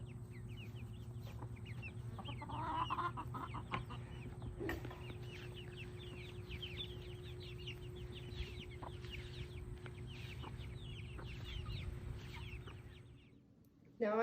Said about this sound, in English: These hens will be providing us with the eggs we need for our omelet.